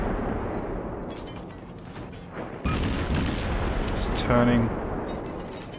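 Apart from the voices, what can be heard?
battleship guns firing high explosive shells in World of Warships video game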